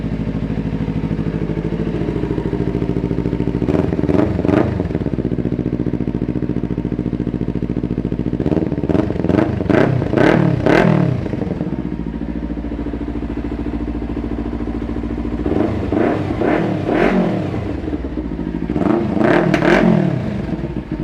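A 2016 Kawasaki Ninja 300 ABS motorcycle fitted with an Akrapovic exhaust idles close by, and the engine is blipped in three clusters of sharp revs that rise and fall back to the steady idle.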